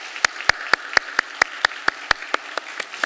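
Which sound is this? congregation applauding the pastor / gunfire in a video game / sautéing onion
congregation applauding the pastor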